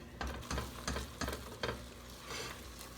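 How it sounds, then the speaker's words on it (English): Cheese queso dip stirred in a pot, with soft scraping strokes repeating roughly every third of a second before easing into a quieter, continuous swirl, close and fairly faint. "Stir it a little bit."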